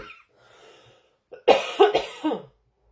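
A woman coughs several times in quick succession, close and fairly loud, preceded by a faint breath and short pauses between the harsh bursts.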